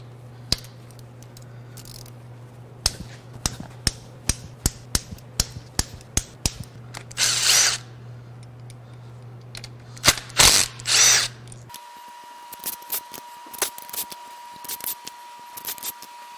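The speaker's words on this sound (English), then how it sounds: "Now it's time to remove the rockers." Rocker arms come off a Dodge Viper V10 engine with a power tool, giving a run of sharp separate clicks and taps, then short bursts of tool whirring, and later a steady hum with scattered ticks, close by and with no speech.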